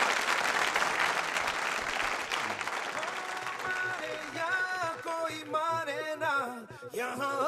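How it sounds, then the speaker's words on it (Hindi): Loud audience applause at a nursing college cultural event, dense clapping filling the first seconds, then thinning as music with sustained melodic tones rises and takes over. "तालियां जोरों से होनी चाहिए।"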